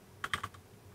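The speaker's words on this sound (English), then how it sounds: "if you just click on the start button and then start typing" A few quick, faint keystrokes on a computer keyboard, three or four light clicks in rapid succession over quiet room noise, with no talking.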